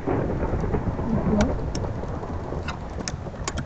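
Video-game weather of heavy rain and a thunderstorm, a loud dense hiss of rainfall with low rumbling thunder and scattered sharp drop ticks, continuous throughout.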